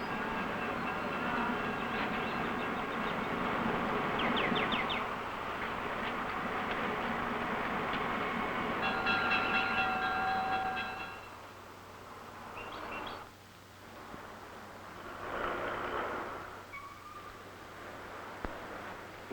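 A train rumbles steadily for several seconds, then fades off, with birds chirping faintly in the background and no voices.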